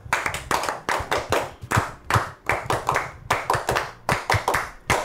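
A modest audience claps at a Paraguayan youth programme broadcast, distinct hand claps in a lively, slightly uneven rhythm, close and bright, continuing for about five seconds without voices.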